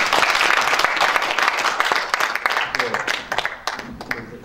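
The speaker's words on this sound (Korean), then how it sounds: "박수 한번 주시죠." An audience at a debate forum claps in a loud, close burst that thins toward the end. Scattered claps fade out over a few seconds, and voices can be heard faintly underneath.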